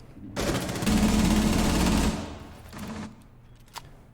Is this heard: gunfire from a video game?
yes